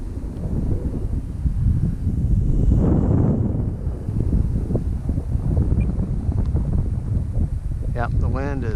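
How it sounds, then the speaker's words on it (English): Strong wind gusts outdoors, a heavy low rumble buffeting the microphone that swells and eases without pause over the whole stretch. "the wind is definitely messing with her today"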